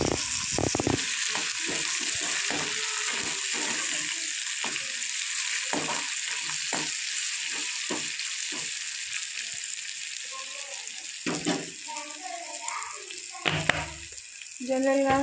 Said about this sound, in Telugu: జస్ట్ ఉల్లిపాయలు వేగడానికి వేస్తున్నాను